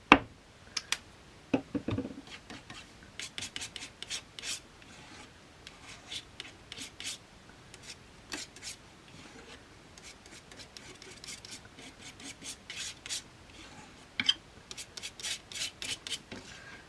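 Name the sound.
scraping paint over a surface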